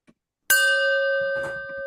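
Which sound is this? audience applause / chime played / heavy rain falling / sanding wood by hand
chime played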